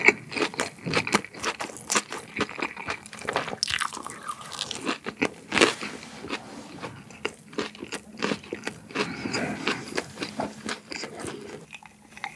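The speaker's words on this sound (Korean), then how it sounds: "샐러드 채소 막 씹히는데 새우도 이렇게 으작 씹히면서" Close, loud crunching and chewing of a Subway sandwich with shrimp, crisp salad greens and red apple vinegar, a continuous run of wet bites and crunches with no talk.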